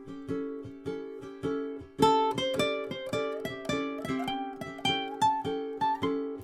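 A ukulele plays a short blues solo phrase of quick plucked notes that step two up and one down, bright and close, with a stronger strum midway.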